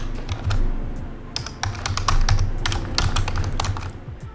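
Rapid typing on a computer keyboard, a close, busy patter of key clicks in uneven bursts over a low background hum, with no talking.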